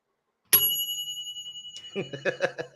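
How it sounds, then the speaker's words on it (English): A single bell strike rings out sharply and leaves a long, bright, shimmering tone; a voice starts talking as the ring fades. "let me just toll the bell real quick"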